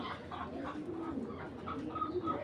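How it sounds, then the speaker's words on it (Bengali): Giribaj tournament pigeons coo steadily and close by, a continuous layered murmur of soft rolling calls with no talking. "একদম ফুল তোতা শেপের কবুতরটা"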